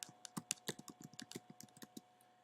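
Quick, light keystrokes on a computer keyboard as a search is typed: about twenty crisp clicks in an uneven, rapid rhythm, close and fairly quiet, with no voices.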